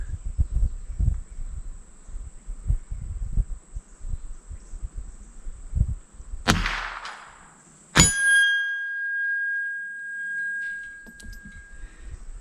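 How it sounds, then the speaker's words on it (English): MAS 45 training rifle rounds striking a steel gong: a sharp rifle report followed by a bright ringing clang that hangs and decays over several seconds, with faint crickets in the quiet background beforehand. "Let's put another one in that same gong."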